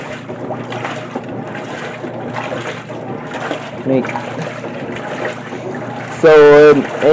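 A 2024 GE top-loading washing machine agitates water during its normal wash cycle, giving a continuous churning slosh at moderate level, overlapped by a person talking, then ending in a brief loud burst near the end.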